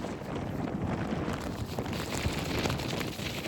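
Strong wind buffeting a microphone outdoors on an exploration trip in Dingalan, Aurora, a loud, continuous rumbling roar with gusty swells and no clear talk.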